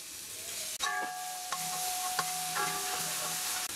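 Sliced onion from one large onion sizzling as it hits hot oil in a pan, a steady close frying hiss with a few soft clinks, no voices.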